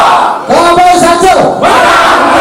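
Political rally crowd at a village hall in Klungkung, Bali, chanting the 'kabar satu' cheer in loud unison, a rising shout with a sustained tonal call in the middle, followed by a burst of crowd noise.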